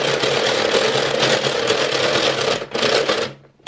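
A Kumikreator friendship bracelet maker is turned by hand, giving a steady, rapid mechanical whirring and clicking that runs continuously, then breaks off briefly near the end and stops.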